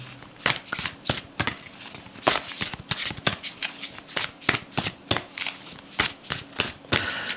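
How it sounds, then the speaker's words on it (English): A deck of cards is shuffled and drawn from, giving a close, steady run of crisp riffling and flicking bursts in quick rhythm with no speech. "Let me just pull another couple of cards from this deck."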